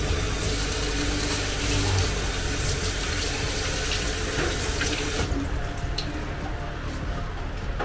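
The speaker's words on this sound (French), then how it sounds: "je vais passer ça sous un filet d'eau" A thin stream of tap water runs steadily over salted dried meat in a sink to rinse the salt away. The splashing is close and continuous, and it thins out toward the end.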